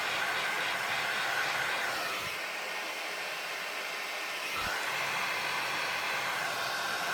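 Electric heat tool blowing hot air to dry white paint on a card, a steady loud rushing whoosh that runs for the whole stretch without talk.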